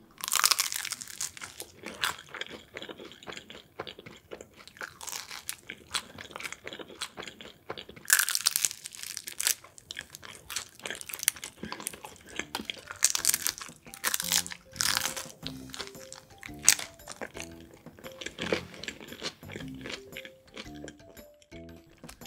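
Sweet potato cheese sticks are eaten up close in crisp, crackling bites with chewing between them. The crunches come in repeated bursts and no one speaks.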